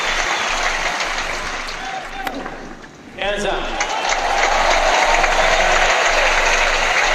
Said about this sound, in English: Crowd still doing all they can to encourage Roger